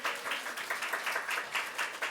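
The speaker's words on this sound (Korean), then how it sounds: "박수 한번 부탁드립니다, 여러분." A crowd applauding, a steady patter of many hands clapping together for a couple of seconds.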